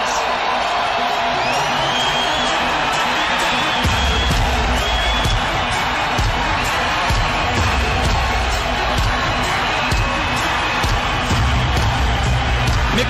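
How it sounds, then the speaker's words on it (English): Boxing arena crowd cheering and whooping as fighter Arturo Gatti makes his entrance, a dense continuous roar of many voices with swelling shouts and low rumbling surges, loud and sustained throughout. "And now the crowd waits for their hero to emerge"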